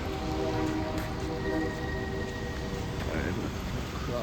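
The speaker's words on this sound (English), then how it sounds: "Oh, come on, rain." Steady hiss of rain falling on a city street on St. Patrick's Day, dense and continuous, with faint muffled voices and street noise mixed underneath.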